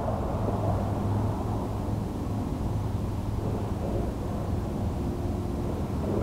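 Delta IV rocket booster main engine roaring steadily during flight, a dense continuous low rumble with no breaks, loud and sustained throughout.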